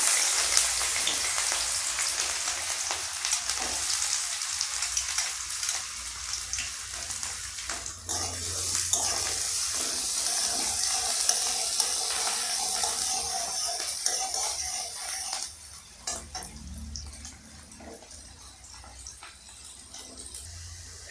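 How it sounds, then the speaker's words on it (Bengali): Chopped onions fry lightly in a pan with green chilies for a semolina upma, giving a continuous soft hiss and crackle, louder at first and easing down toward the end, with no talking. "এক মিনিট পেঁয়াজটাকে ভেজে নিয়েছি হালকা করে, প্রচুর ভাজবো না আমরা পেঁয়াজটাকে।"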